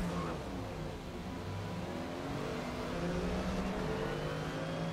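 Ferrari F50 engine in Forza Motorsport, open A class racing at Road America, droning steadily at high revs with rising and falling harmonic pitch throughout, loud and continuous with no talk.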